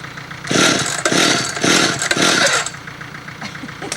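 A tractor engine cranks and catches in bursts, rough clattering mechanical pulses that rise and drop four times before settling into a quieter running sound, heard close up with no talking.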